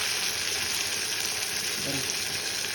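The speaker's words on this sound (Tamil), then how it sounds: "இப்போது எண்ணெய் ஊற்றி கடுகு போட்டு வெங்காயம், பூண்டு, கருவேப்பிலை, அடுத்து தக்காளி போட்டிருக்கேன்" Mustard seeds, onion, garlic and curry leaves fry in oil for a spicy curry, making a steady, loud, close sizzle without pause, with a faint murmur of voice beneath.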